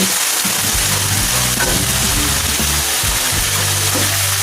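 Dumplings and salmon fry together in a pan, a steady loud sizzle with stirring scrapes and bubbling throughout, no talking.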